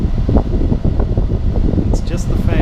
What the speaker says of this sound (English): It's just the fan.